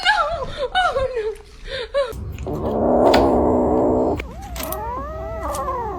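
A cat tucked inside someone's jacket gives a low, sustained growling caterwaul lasting a couple of seconds, close and fairly loud, with laughter and excited voices around it before and after.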